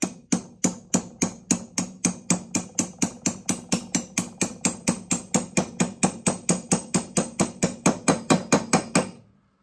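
A hammer taps a part into place on a Buick Stromberg carburetor, about forty quick, evenly spaced metallic knocks in a steady close rhythm that stop abruptly.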